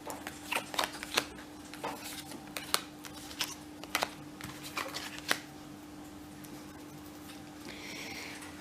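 Tarot cards shuffled and laid out on a table, giving a series of crisp riffles and sharp flicks that come in irregular bursts before a quieter stretch, close and fairly soft, with a faint steady hum underneath.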